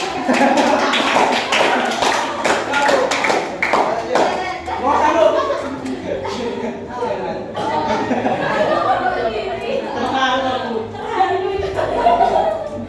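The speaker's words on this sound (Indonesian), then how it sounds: "kasih tepuk tangan dulu" Audience applause at a school guidance-counselling training workshop: dense, loud clapping fills the first few seconds, then thins into scattered claps and chatter as a person begins speaking over it.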